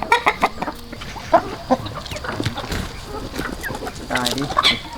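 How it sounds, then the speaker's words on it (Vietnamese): Chickens on a small homestead clucking repeatedly at close range in short irregular bursts, with a child and an adult talking over the birds. "đi xem con gà thôi, gà ăn nó đẻ trứng nhá"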